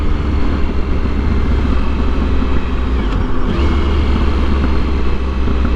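Triumph Sprint ST 1050 motorcycle with an aftermarket exhaust, a loud, close, continuous engine drone with a deep rumbling exhaust note that holds steady throughout.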